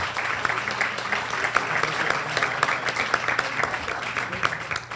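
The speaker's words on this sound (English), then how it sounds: "Please give them another round of applause." Luncheon audience at a county civic club meeting applauding, a sustained round of many hands clapping at moderate volume with scattered murmur underneath.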